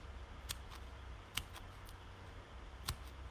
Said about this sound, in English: I'm going to cut them in thin strips